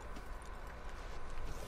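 Horse hooves clip-clop steadily as the animal is ridden, a continuous rhythmic patter over a constant background hum.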